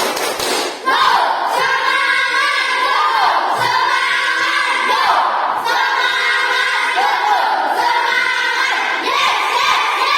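A group of schoolchildren in a classroom chant and clap in a loud, rhythmic cheer, with repeated clap bursts and shouted voices throughout.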